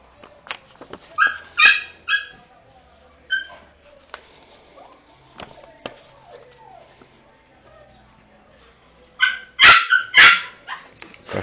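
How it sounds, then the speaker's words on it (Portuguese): A dog barks in the background in two short clusters of sharp barks, the second one louder, with faint whimpers and scattered noises between them. "Cachorro latindo no fundo aqui do som aqui."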